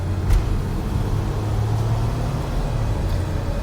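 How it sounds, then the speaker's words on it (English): A 2007 Sprinter van with a new transmission pulls away from a stop under light throttle, giving a steady, close low engine and road rumble with no talking. "Let's see another acceleration from the stop, basically."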